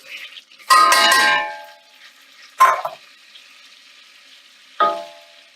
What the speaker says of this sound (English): So next I'm going to add my flour.